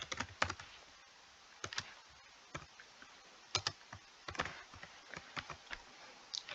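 Typing on a computer keyboard, a quiet, irregular run of close key clicks in short bursts, with no talking.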